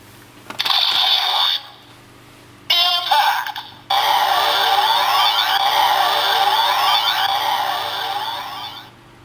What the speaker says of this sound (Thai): เสียง Impact เมื่อกี้ มันเป็นเสียงของเข็มขัดเอฟเฟกของเข็มขัด